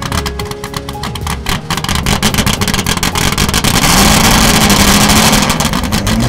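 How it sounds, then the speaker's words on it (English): A Ford GT40 Mark IV racing car with its original 1960s Le Mans-spec exhaust roars loudly and continuously close by, its engine note swelling and building in intensity throughout. "return the exhaust to the original 60s Le Mans spec exhaust, which is just brutally loud"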